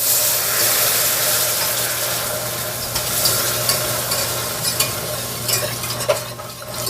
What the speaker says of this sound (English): then you whisk in your milk